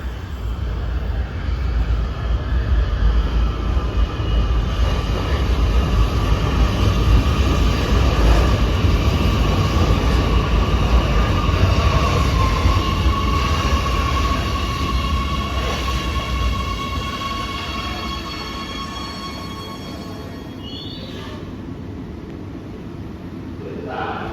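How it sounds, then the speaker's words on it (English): An Oslo Metro train rolls into a station platform early in the morning, a steady loud low rumble and rail hiss building and holding close by, with faint talk underneath before it eases off near the end. "the train we're taking next is on there. It is not that long. It's coming in right on this track in a minute."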